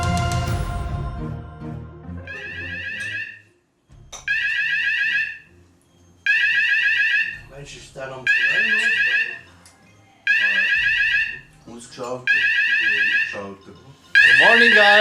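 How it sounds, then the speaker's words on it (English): A smoke-triggered fire alarm set off by a large batch of cooked bacon beeps loudly in repeated high-pitched bursts with short gaps, while people talk and move around beneath it. "We actually triggered the fire alarm because we had cooked that amount of bacon."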